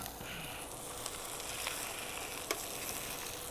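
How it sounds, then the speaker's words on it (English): T-bone steak sizzling in a pan with onions, a continuous loud frying hiss with a few small pops and crackles, no talking. "we're going to just put the steak right back in."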